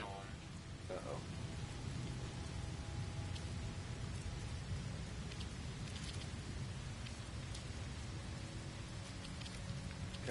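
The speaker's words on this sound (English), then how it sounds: "Weather warning. Incoming storm." Steady rain hiss of an incoming storm in No Man's Sky, a dense, even wash of noise with faint rumbles, quiet throughout.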